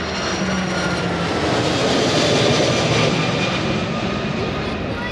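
A jet airliner roars steadily overhead at an air show at La Ferté-Alais, a loud broadband rush with engine whine that holds strong throughout, no talking.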